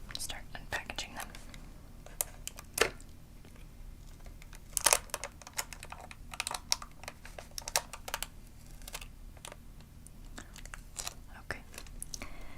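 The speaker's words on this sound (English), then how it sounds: "So these are all taped down and twisty tied, so I'm going to start unpackaging them." Taped and twist-tied Indiana Jones Micro Machines toys are unpackaged up close: soft crinkling, tapping and tape-peeling clicks in irregular bursts, quiet and intimate.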